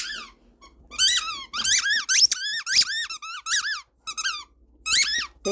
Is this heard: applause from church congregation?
no